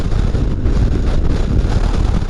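Strong, cold wind roars and buffets the microphone outdoors at a motorcycle expo in a steady, loud rumble with no voices.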